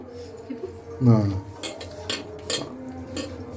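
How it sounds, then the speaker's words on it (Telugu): A spoon stirs salt into a chicken pakoda mixture in a metal bowl, giving a short burst of scraping clinks followed by a few lighter taps, close by with a voice speaking over it. "ఆ సాల్ట్ మొత్తం కలిసేలాగా తిప్పుకోవాలి"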